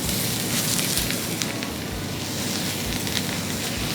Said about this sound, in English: We have a very hot pan, and you want it hot so that you can get a really nice